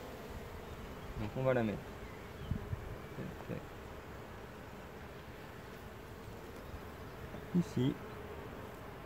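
Honeybees buzz softly around small hives during a spring inspection, a faint steady drone with a few brief louder passes near by. Someone talks quietly now and then.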